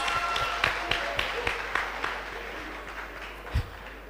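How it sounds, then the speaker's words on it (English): Scattered applause from an audience at an alumni homecoming seminar for a professor, with a few distinct claps over a soft, thinning clatter that fades out. "Hand of applause."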